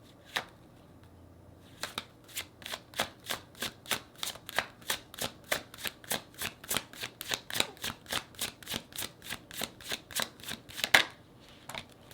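A deck of tarot cards is shuffled close up in a quiet room, a long run of soft, rapid regular flicks and riffles with a brief pause near the start.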